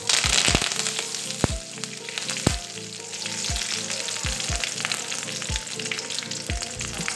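Mustard seeds splutter and crackle in hot oil in a home kitchen pan for a jackfruit curry, a steady loud sizzle broken by sharp, irregular pops close by.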